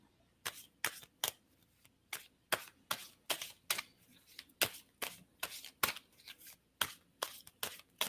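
Cards are riffled and bridged repeatedly, quick crisp bursts of flutter and snapping at an uneven rhythm, close by with no talking.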